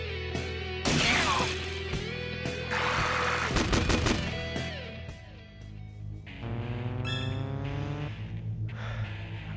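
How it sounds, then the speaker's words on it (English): An ice shot attack in Shin Megami Tensei: Digital Devil Saga, a loud run of sharp bursts and crashing impacts followed by a rising ringing tone over steady background music. "Ice shot."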